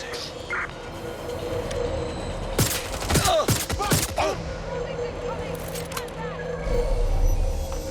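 Gunfire from the video game Watch Dogs Legion comes in a burst of sharp cracks in the middle, over a steady background rumble of the game's ambience.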